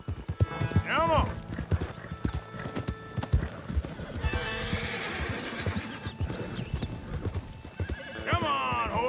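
Horses in the video game Red Dead Redemption clip-clop in a quick, rhythmic trot, with several loud whinnies breaking through near the start and end, and a voice shouting now and then.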